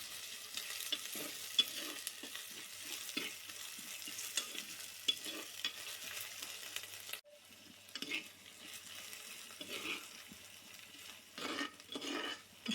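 Mustard seeds, dried chilies, curry leaves, garlic, ginger and onion are stirred in a pan with a soft fry, the spoon scraping and clinking in irregular strokes, quieter after a short pause midway.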